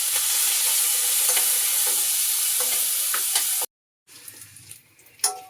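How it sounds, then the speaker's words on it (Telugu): Dried prawns fry in hot oil with a steady close sizzle and occasional stirring scrapes, then the sound cuts out briefly before quieter sizzling and clatter return. "టూ మినిట్స్ వేయించుకున్నాం కదండి ఎండురొయ్యలు"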